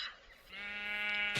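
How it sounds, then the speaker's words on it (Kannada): A sheep in the Minecraft video game gives a single drawn-out wavering bleat, clear and moderately near, with no talk over it. "ಹಾಯ್ ಕುರಿ."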